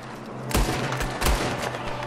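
Gunshots ring out in the Red Dead Redemption 2 video game, two loud booming blasts about three-quarters of a second apart over a steady rumbling background of game noise, with no voices during the firing.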